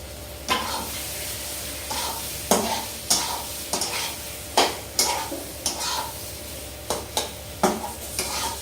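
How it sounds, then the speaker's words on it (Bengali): Chickpeas (kabuli chana) and tomato being sautéed in a pan, with a string of rhythmic spatula scrapes and stir strokes over a steady close sizzle and no talking. "টমেটোটা দিয়ে একটু পরে দিলাম তাই একটু ভালো করে কষিয়ে দেবো"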